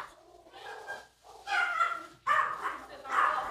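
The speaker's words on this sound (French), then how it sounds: "c'est parce qu'il y a un autre chien, je pense." A dog barks in several short bursts of moderate loudness, mixed with people talking nearby.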